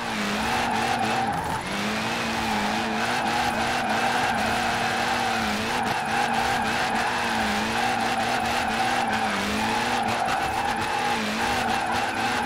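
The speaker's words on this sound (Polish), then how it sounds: "Dziwnie się driftuje tym samochodem." In Forza Horizon 4, a drifting car's engine roars continuously at high revs while its tires squeal and skid through long slides, loud and close throughout.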